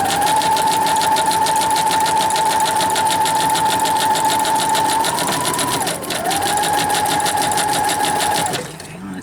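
A sewing machine runs in a long, steady, close-up stitching burst with a rapid even needle rhythm and a constant motor whine, dipping once briefly before resuming and stopping near the end.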